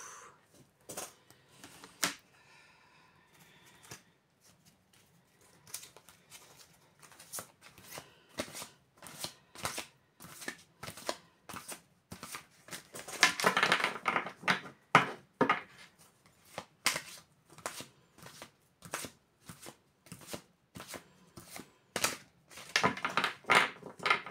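Tarot cards shuffled close up: repeated crisp riffling and slapping bursts in an uneven rhythm with brief pauses, growing busier and louder toward the end, with no talking.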